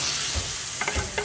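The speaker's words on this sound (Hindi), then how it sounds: "इसको तेल निकलते तक भून लेंगे" Boiled chickpeas stir-fry in hot oil for chana masala, a continuous sizzle broken by a few scraping stirs of the spoon in the pan, close and alone.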